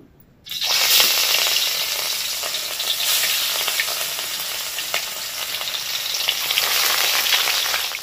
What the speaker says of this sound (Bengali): এবারে মাছগুলোকে এক এক করে ভাজবো, লাল করে ভাজতে হবে কিন্তু